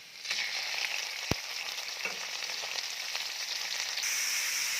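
Ground pork or beef sizzles loudly in a hot pan as filling for stuffed milkfish, a dense steady crackle with one sharp utensil clack early on.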